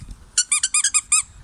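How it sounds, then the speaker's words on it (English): A dog's new squeaky toy ball squeaks in a quick run of about six sharp, high squeals, close and loud over a quiet background. "squeaky ball because it's a new one."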